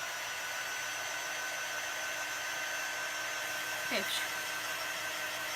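Steady, close whoosh of a hair dryer blowing on a chalk paste letter, continuous and even throughout, with a brief spoken word near the end.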